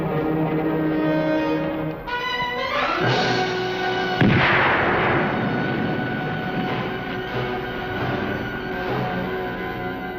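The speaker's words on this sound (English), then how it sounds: "The explosions were far from us, but we felt the shock waves." Far-off underwater explosions rumble as a broad, heavy low roar, with a sharp concussive burst partway through followed by a sustained churning wash of noise.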